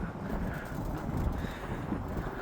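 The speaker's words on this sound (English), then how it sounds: "Oof, it is windy today." Strong wind buffets the microphone on a winter train platform with a constant low rumble and gusty roar, loud and close, with no voices.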